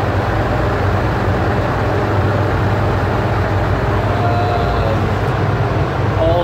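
Rooms of GPU crypto mining rigs with EVGA GTX 1070 cards running, giving a loud, steady broadband fan roar that fills the space without letup.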